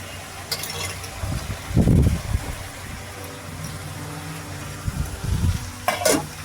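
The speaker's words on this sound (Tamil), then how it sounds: "நல்லா வதக்கி விட்டுக்கலாம்" Carrot, green beans and curry leaves sautéing in a pan for vegetable sambar, with soft sizzling and a few stirring scrapes rising and falling over a low steady bed of frying noise.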